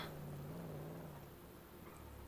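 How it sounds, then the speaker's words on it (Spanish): A cat purring or giving a low, drawn-out meow, faint under steady background hum. "¿Y ese gato que se escucha?"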